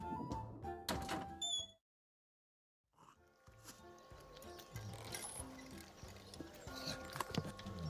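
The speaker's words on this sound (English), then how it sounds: "It's a horse." A horse in a cinematic cartoon adventure game makes hollow clip-clopping hoof thuds over light in-game tones. A short burst of sound is followed by about a second of silence, then steady, softer clopping.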